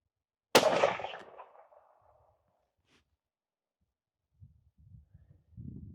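A single sharp rifle shot from a Christensen Arms Ridgeline 30-06 cracks loudly outdoors and rings out in a decaying tail, followed by faint low thumps and muffled sounds.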